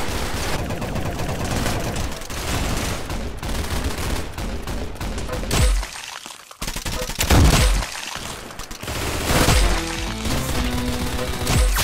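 Rapid gunfire bursts and machine-gun fusillades ring out in the video game Arsenal, loud and dense for most of the stretch, with a brief lull midway before the shooting resumes.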